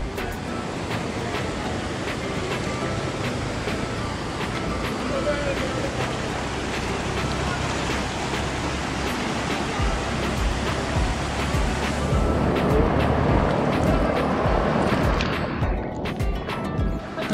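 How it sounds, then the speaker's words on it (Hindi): Powerful rushing water pouring through the Dadupur barrage on the Yamuna, a continuous loud roar that swells slightly toward the end. "ये देखो पानी का कितना तेज प्रेशर है"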